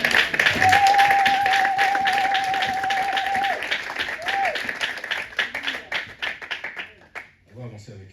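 A church congregation applauds together at a Sunday thanksgiving service, a dense steady wash of clapping that thins out toward the end, with a sustained tone and some voices mixed in.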